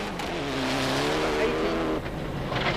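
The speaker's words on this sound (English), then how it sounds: "Glenn Inkster still plagued by a misfire, as you can hear." Rally car engine with a misfire on a gravel stage, a rough, wavering engine note with uneven pitch and brief drop-outs, heard at moderate distance with background noise.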